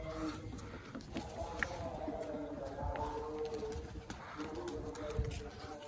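Low, soft cooing from pigeons repeats over a murky background, fairly faint, with some distant voices mixed in.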